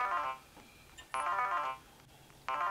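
A cell phone rings at a dinner table, two loud bursts of a bright electronic ringtone separated by a short pause, with a third burst starting at the end.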